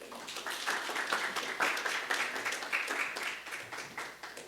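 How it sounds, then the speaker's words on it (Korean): A church congregation gives warm applause to welcome an elderly pastor, with steady, dense clapping from many hands filling the room at moderate distance and no talking over it. "우리 열렬한 환영의 박수로 목사님 맞이하시겠습니다"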